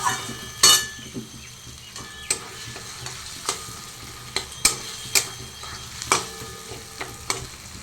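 Spices and chili powder being stir-fried for a mushroom curry, with a steady sizzle under repeated sharp clinks and scrapes of a spatula against the pan, alone and close.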